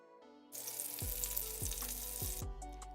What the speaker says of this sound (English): I'm gonna throw them in a pot, let them saute with some butter.